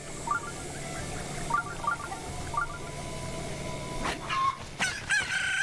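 Chickens in The Legend of Zelda: Breath of the Wild clucking in short, repeated bursts over a steady game ambience, followed by a sharper flurry of clucks and squawks toward the end, with no talking.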